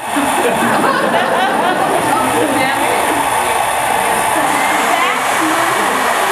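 A hair dryer nozzle blowing air on its cold setting, a loud continuous rushing hiss that runs without a break while people talk over it.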